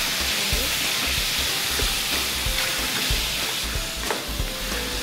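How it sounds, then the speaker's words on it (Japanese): Vegetables stir-fried in a pot for Japanese kenchin soup, a steady broadband sizzle with scraping stirs and occasional clatters throughout, close and fairly loud, no talking. "長ネギとお豆腐以外はお鍋の中に入れてよく炒めてください。"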